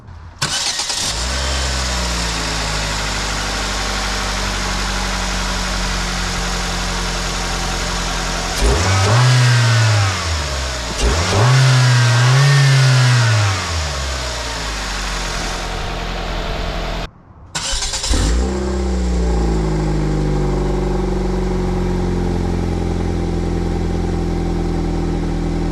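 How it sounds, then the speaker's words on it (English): A cheap car's engine cranks and starts, then revs up twice in rising and falling sweeps before settling to a steady idle, heard close and loud on a test drive. "So now let's fire her up, go for a test drive, and see if all this work was worth it."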